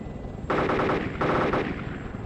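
Two loud bursts of rapid machine-gun fire come from an Apache helicopter's gun in the Arma 2 video game. Each burst lasts about half a second over a constant rotor and engine drone.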